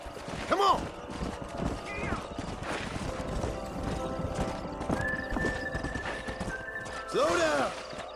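Horses in the Western video game Red Dead Redemption, with steady hoof clip-clops close by, loud whinnies at the start and near the end, and a voice speaking briefly in the middle.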